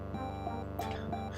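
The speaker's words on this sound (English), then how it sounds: "This sounds like me as a kid on the touch-tone telephone." Electronic beeping tones from the DOS video game Menzoberranzan, a string of bright synthesized notes stepping along in a steady melodic pattern over a sustained low drone.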